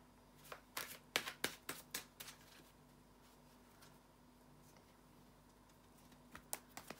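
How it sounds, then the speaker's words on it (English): Tarot cards being shuffled by hand: quiet bursts of riffling and soft slaps in a short cluster, a lull with faint handling, then a few more taps near the end, close and low in level. "bear with me a second, guys, to shuffle the cards"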